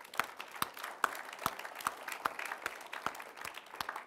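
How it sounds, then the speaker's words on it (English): Applause from the audience at a Women in Engineering keynote talk, with sharp regular claps standing out over a steady wash of clapping hands. "At least give everybody and yourselves an applause."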